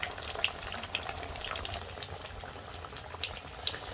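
Homemade hash browns frying in a pan give a busy, bubbling crackle with small sharp pops scattered throughout, steady and close at moderate volume.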